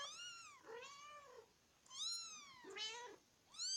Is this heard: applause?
no